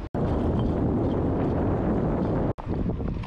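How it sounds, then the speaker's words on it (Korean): A 29-inch carbon Cello XC Pro mountain bike with thick tires rolls over loose, uneven sidewalk paving blocks in the city, giving a steady, close rumbling clatter mixed with heavy wind noise. "이렇게 지금 보도블럭 소리 들리시죠?"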